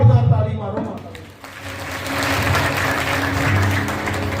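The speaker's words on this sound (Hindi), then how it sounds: "जोरदार ताली मारो माता" Clapping at a village kirtan in Satrayiya camp, R S Pura, Jammu: a singing voice comes first, then a thick burst of crowd clapping sets in and carries on over a sustained musical drone.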